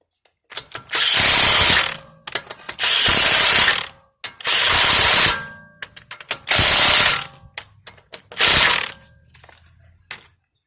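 Five bursts of rapid ratchet clicking, each lasting about a second, as wheel lug nuts are tightened in a star pattern on a 2013 Mini Cooper Countryman; close and loud, with short pauses between nuts.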